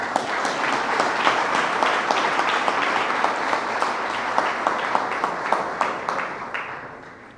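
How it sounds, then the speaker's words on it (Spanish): Dense applause from an audience welcoming a youth leader to the stage at a party anniversary celebration, steady and loud for several seconds with sharp individual claps on top, then starting to thin at the end. "Un aplauso para recibirla."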